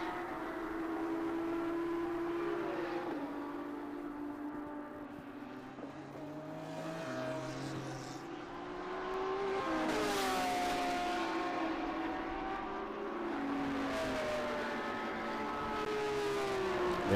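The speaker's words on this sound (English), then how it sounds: "There's that Lambo we love. The Kaizen Autosport Lambo." A Kaizen Autosport Lamborghini race car runs on track at Road Atlanta, its engine note rising and falling through gear changes, with other cars passing and a steady loud roar throughout.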